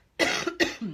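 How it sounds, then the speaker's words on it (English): Two sharp coughs close to the microphone in quick succession, each a harsh burst followed by a short rasping tail. "I'll cough again."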